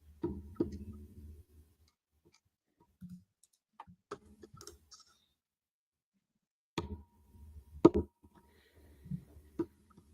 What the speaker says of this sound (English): There's a clicking sound on a microphone.